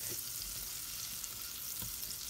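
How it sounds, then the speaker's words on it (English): Butter melts over high heat in a pot for a creamy potato soup, giving a soft, steady sizzle and crackle at low volume with no talking. "now on high heat I'm going to put the butter and let it melt"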